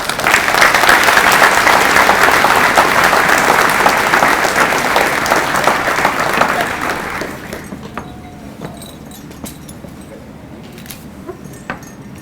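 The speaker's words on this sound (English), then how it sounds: "How about a round of applause?" Audience applause at a high school graduation ceremony, a dense, loud burst of clapping that holds steady for about seven seconds before fading away into quiet room tone.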